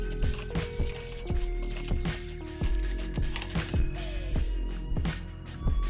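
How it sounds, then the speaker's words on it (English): A handheld wrist ratchet turns NGK 97506 spark plugs, one step colder, into the cylinders of a BMW F10 535i N55 engine, giving a steady run of close, crisp ratcheting clicks with faint metallic ticks between them. "Just use my handheld little wrist ratchet"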